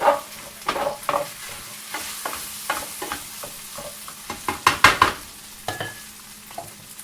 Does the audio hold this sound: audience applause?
no